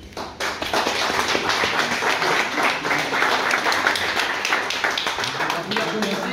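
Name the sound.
applause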